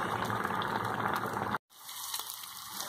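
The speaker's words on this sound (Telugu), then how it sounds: "ఇలా బబుల్స్ వచ్చాక స్టవ్ ఆఫ్ చేసుకోండి" Amaranth leaf dal bubbles on the stove in a steady, close, hissing boil, briefly cutting to silence before the simmering noise returns more softly.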